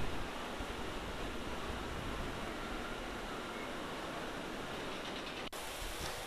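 Water fountains near the Pittsburgh Plunge ride at Kennywood amusement park splash in a steady, dense hiss of falling water, with one brief click near the end.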